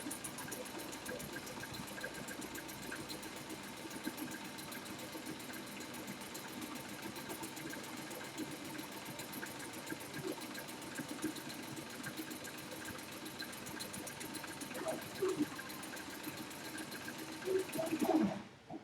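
A sewing machine stitching the seam of a drawstring bag, a steady faint mechanical whir running continuously, quiet and unbroken, with a few clicks near the end.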